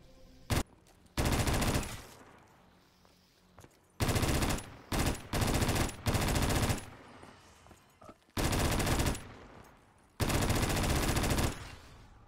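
RPD light machine gun firing in Call of Duty custom zombies on the Terminal map: loud sustained automatic bursts of varying length separated by short pauses, with no speech over them.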